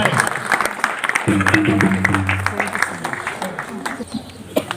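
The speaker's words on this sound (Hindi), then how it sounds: "जोरदार तालियों से उनका स्वागत करें" Audience applause at an International Women's Day event in an ashram, a steady clatter of many hands mixed with voices and a low hum, with speech running over it much of the time.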